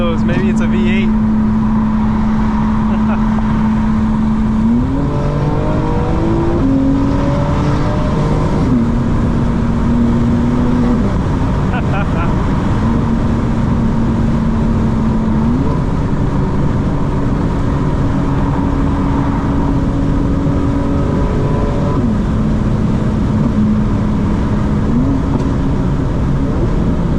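A tuned 900 hp 2025 BMW M4 Competition xDrive drives loudly through traffic, its engine droning and stepping up through repeated gear changes, with a constant roar of road and wind noise underneath.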